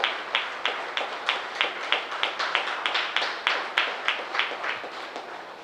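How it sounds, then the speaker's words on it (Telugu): A small audience at a Pyramid Party meeting claps in a sparse, uneven burst of individual hand claps, fairly close, with no talk over it. "ఒకసారి గట్టిగా క్లాప్స్ కొడదాం"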